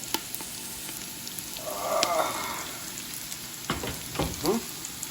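Ingredients sizzle as they are sautéed in a pan for Filipino pinapaitan, a steady crackle broken by sharp utensil taps and scrapes, with a few brief clatters near the end and no talk.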